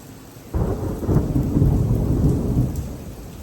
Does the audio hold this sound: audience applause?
no